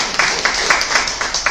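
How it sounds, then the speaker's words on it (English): An audience at a book signing event claps briefly, a fairly loud, steady run of hand claps in a hall. "Give me a round of applause"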